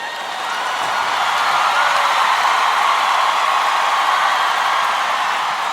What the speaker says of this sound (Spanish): Apláudele fuerte a él.